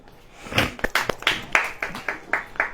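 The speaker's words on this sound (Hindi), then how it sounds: "ताली बजाएं।" Scattered hand claps from a small church congregation, a dozen or so uneven bursts over a few seconds, fairly close with some room echo.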